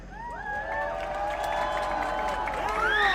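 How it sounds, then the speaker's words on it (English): A crowd at a high school football game cheers and shouts for Marvel, with whoops and yells rising and falling in a loud, continuous roar for about three seconds. "please cheer now."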